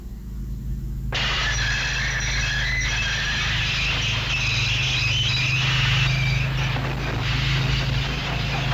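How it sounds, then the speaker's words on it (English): A train's emergency brakes squeal loud and close, a sustained high-pitched metallic shriek that kicks in abruptly after a low rumble and holds steadily for several seconds over the heavy grind of the rails. "Wexry's driver applied the emergency brakes."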